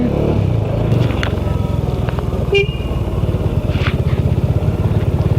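Motorcycle engine braking on a narrow, broken mountain road near a hairpin bend: a steady low engine drone with a pulsing exhaust, a short horn toot partway through, close and loud.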